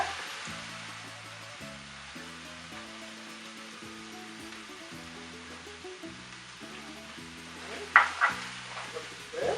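Chopped tomato goes into a hot pan where slider patties cook, giving a soft, steady sizzle with a low rumbling hum beneath and a few sharper clinks near the end.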